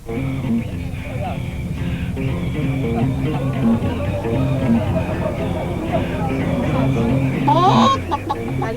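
A person in Burundi imitates a chicken with clucking, bawking sounds over a busy, noisy background, ending in a rising squawk.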